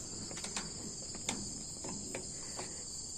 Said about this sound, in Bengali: একটু চুপচুপ থাকলে ঝিঝি পোকার আওয়াজটা দেখেন কতটা হরর মনে হচ্ছে